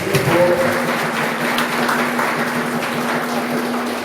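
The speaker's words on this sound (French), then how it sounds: "On va applaudir Seigneur maintenant." Worshippers in a church congregation applaud the Lord, a loud, sustained patter of many hands clapping together, with a steady tone humming faintly underneath.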